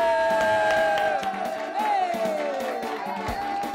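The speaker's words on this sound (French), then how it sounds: "Dis, oh yeah! Acclame puissamment Jésus." A church congregation in a morning service cheering and shouting acclamations together, a loud crowd of voices with whoops and rising shouts, mixed with a few claps and sustained vocal tones.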